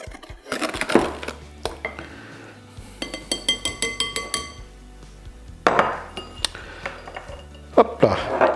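Sugar and cornstarch stirred together in a bowl for a flan, with a utensil scraping and clinking against the dish in repeated close strokes, some rapid bursts of clatter, no talking.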